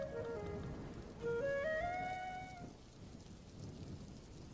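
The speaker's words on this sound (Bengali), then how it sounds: "কি সুন্দর বৃষ্টির দিন," A cartoon sound effect of rain and thunder plays in a Bengali fairy-tale cartoon: a steady rainy hiss with brief rising whistle-like tones, and no voices.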